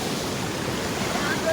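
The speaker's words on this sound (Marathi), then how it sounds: "पाण्याला फोर्स खूप जास्त आहे" A strong, fast-flowing stream on the Kalsubai trek rushes nearby in a dense, continuous roar that stays steady throughout.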